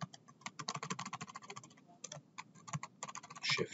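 Keys on a computer keyboard clack in quick, irregular bursts as shortcut combinations are pressed, close and fairly quiet with short pauses between runs of taps.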